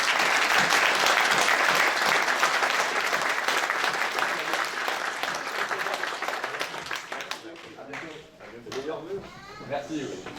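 Crowd applause at a mayor's New Year wishes ceremony for the town's residents, loud and dense at first, then thinning into scattered claps with voices talking over the fading end.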